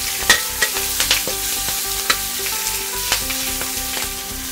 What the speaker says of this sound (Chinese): 把刚刚准备好的葱姜蒜放进来炒香，放在油比较多的地方来爆香